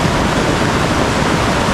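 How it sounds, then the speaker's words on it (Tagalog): A small stream flows in a continuous, even rush of water, close and fairly loud, with no voices. "may maliit na sapa dyan"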